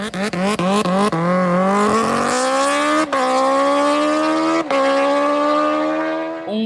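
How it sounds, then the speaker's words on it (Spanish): A motorcycle engine revs hard in a few quick blips, then holds a loud, rising high-pitched wail that climbs steadily, close up and alone with no talking. "¿cuánto califica el sonido de esta moto?"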